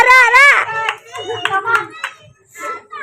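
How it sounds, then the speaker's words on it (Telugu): A group at a New Year's party game gives a few scattered hand claps, partly buried under loud, excited voices of children and adults calling out nearby. "కమాన్ చప్పట్లు"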